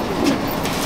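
A racing pigeon in a loft at Chandannagar, Hooghly, gives a short, loud, close-up coo, a low throaty swell over a dense background.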